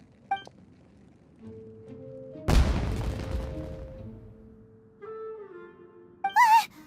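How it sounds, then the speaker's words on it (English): Fireworks going off in the video game Genshin Impact: one loud booming burst followed by a crackling, fading tail, set among quieter in-game tones and chimes. "It sounded like fireworks."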